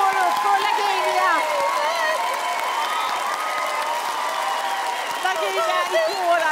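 A theatre audience rising in a standing ovation, a steady wash of crowd noise and cheering with voices talking over it throughout.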